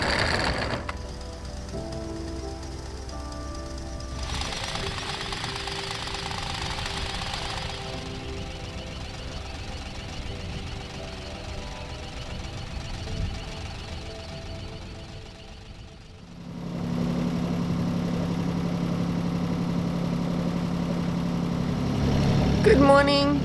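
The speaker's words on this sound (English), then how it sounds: "Love the sound of a diesel engine in the morning." A sailboat's steady low diesel engine drone runs throughout, rising in loudness near the end, with voices talking over it.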